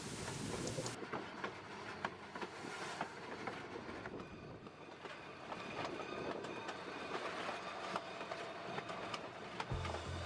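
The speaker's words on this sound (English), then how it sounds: "This is an old steam engine," An old steam locomotive climbs a grade in South Dakota, rumbling along steadily with clattering wheels and mechanical clanking, a dense continuous noise at moderate distance with no voices.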